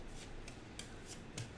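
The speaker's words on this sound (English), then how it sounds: "Shuffle these." Playing cards being shuffled during a tabletop board game session, a few soft riffling bursts over steady room noise, close and fairly quiet.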